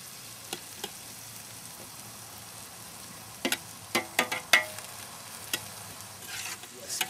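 Garlic fries in a pan with a soft, steady sizzle, broken by sharp clicks and scrapes of stirring that cluster in the middle, heard close with no talk.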